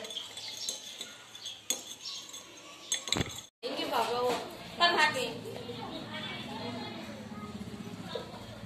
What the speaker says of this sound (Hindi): उसमें थोड़ा सा चूना डालकर जो है एक उसे हिलाएंगे तो चूने का पानी तैयार हो जाता है।